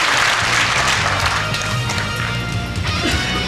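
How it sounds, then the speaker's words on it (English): Spectators at the 1995 World 8-Ball Championship applaud warmly after a frame win, a dense burst of clapping that tapers slightly, with faint murmurs beneath. "And the crowd gives him a very warm reception for that victory."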